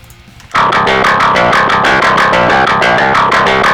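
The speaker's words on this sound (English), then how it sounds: "This is still a little bit too distorted, so we're going to turn down the drive a little bit." A heavily distorted metal bass guitar tone with the drive eased back, processed in Reaper: a loud, steady run of rapid picked notes with a gritty, saturated edge, starting after a brief quiet lead-in.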